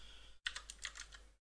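Quiet keystrokes on a computer keyboard, about eight quick taps in a short burst after a brief pause, close and soft, with no talking.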